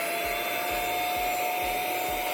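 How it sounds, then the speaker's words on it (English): A budget $17 handheld vacuum cleaner runs continuously with a steady, loud motor whine and airflow hiss, while low pulsing thumps repeat about every half second as the valve opens and closes. "So let's try vacuum clean this."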